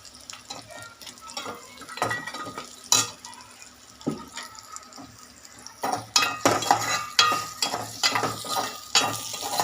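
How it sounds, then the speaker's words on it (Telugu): Bitter gourd pieces fry with chili powder in a pan for a Godavari-style tamarind curry. A close sizzle sits under clattering stirs and scrapes against the pan, and the stirring grows busier toward the end. "కారంలో ఫ్రై అవుతున్నాయి"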